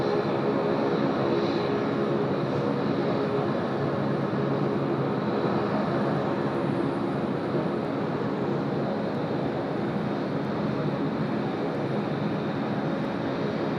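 Airplane at Sydney Airport, a steady loud roar of jet engines that holds for the whole stretch without easing, broad and continuous with no voices over it.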